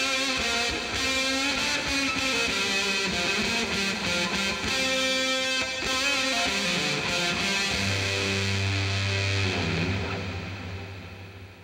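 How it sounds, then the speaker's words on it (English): An electric guitar plays through an effects pedal with plenty of room reverb mixed in. Dense, washed chords ring for several seconds, then settle into a low sustained note that trails off into a reverberant tail. "now we're going to blend in, probably too much, but I like a lot, of the room reverb"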